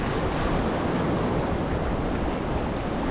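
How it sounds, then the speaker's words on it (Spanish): Ocean surf breaking and washing up on a sandy Caribbean beach, a continuous loud rush of water and wind noise close to the microphone, with no voices. "Ahí viene la ola."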